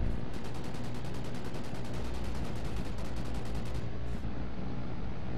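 Rapid sustained gunfire in a video game shooter, a dense continuous automatic burst that stays loud and close nearly the whole time, briefly easing near the end.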